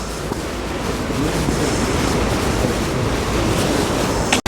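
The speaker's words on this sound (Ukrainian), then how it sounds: "зараз вітер, я ж кажу, що він такий пронизливий" Steady, blustery seaside wind at a beach roars broadband with a washing surf-like rush, constant throughout and loud, ending in a sudden brief dropout.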